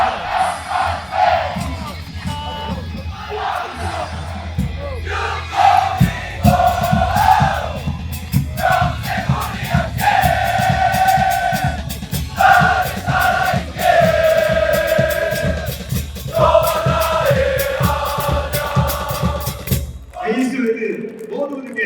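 FC Anyang supporters in a stadium cheering and chanting in loud, rhythmic unison, with clapped beats and a dense roar sustained throughout, an announcer's amplified voice heard among it.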